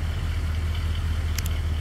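A 1940 Ford Deluxe Convertible engine idles with a steady low rumble, and two brief high clicks sound near the end.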